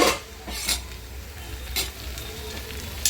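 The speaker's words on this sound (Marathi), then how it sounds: "आता त्याच्यामध्ये कांद्याची जी पात आहे ती टाकायची" Chopped spring onion greens go into potato and onion frying in a pan, giving a soft sizzle with a few sharp spoon-against-pan scrapes and stirring clatters spaced through it.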